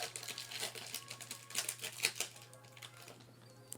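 Packs of F1-themed UNO trading cards being torn open by hand, with crisp crinkling and tearing bursts of wrapper foil over a steady low hum, fairly close and quiet, no talking.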